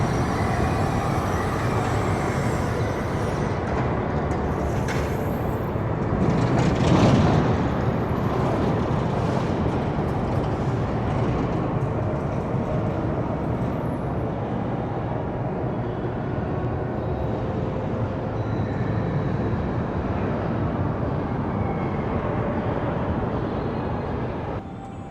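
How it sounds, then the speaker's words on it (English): Loud, continuous rumble of a Gerstlauer Eurofighter coaster, TMNT Shellraiser at the Nickelodeon Universe indoor park, with steady roaring wind and track noise that swells briefly early on and then holds at a constant level, with no talking. "next ride is going to be TMNT Shellraiser, the Gertzlauer Eurofighter"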